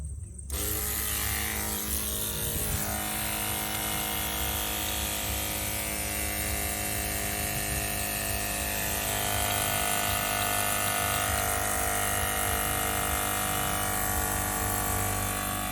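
A reverse osmosis window cleaning pump feeding a 3/8 hose kicks on abruptly after a brief silence, then holds a loud, steady mechanical hum and whine with no letup.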